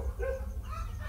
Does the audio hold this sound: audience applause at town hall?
no